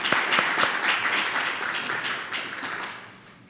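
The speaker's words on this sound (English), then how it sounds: "Let's give a round of applause again to our fantastic panel." Warm applause from a campus event audience for a panel, a full even wash of clapping that holds steady and then fades out over a few seconds.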